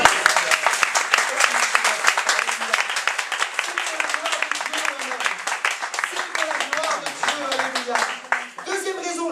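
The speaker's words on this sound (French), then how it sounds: "Acclame le Seigneur à l'instant." A church congregation claps and cheers in praise, a dense, rhythmic burst of many hands close by, with voices shouting and singing along through the applause.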